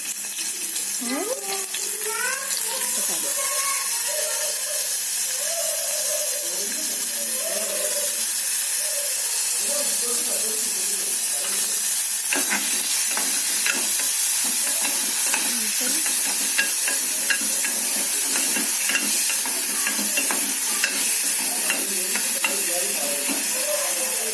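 Onions sizzle in a pan for a dal tempering, a steady broad hiss with scraping stir strokes and clinks; the early seconds carry some faint tonal sounds, and no one speaks.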